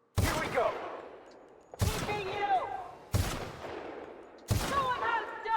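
Gunfire in the video game The Outer Worlds: four separate loud, sharp shots spaced over a few seconds, each with a bright crack trailing into a ringing, echoing decay, with no talking.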